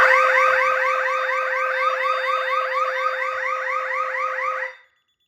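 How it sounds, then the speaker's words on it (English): A DSC Neo alarm system sounds its police panic siren during a test, a loud, rapidly warbling electronic wail repeating steadily for nearly five seconds before cutting off. "Last but not least, we will be testing the police panic."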